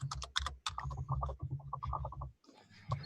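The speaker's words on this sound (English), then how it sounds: "Am I typing too loud?" Quick, uneven clicking of a computer keyboard being typed on close by, with brief pauses between bursts of keystrokes.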